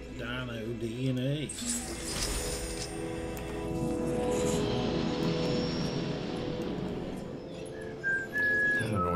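A helicopter in the video game Jurassic World Evolution gives off a steady engine drone with a high whine on top, continuing without a break after a brief voice at the start.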